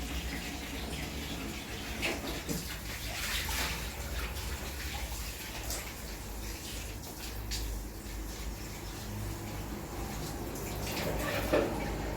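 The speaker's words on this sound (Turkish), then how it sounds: "Bir su dökeceğim." Water is poured and splashes steadily during house cleaning, a continuous rushing wash that runs for about twelve seconds at moderate, even loudness.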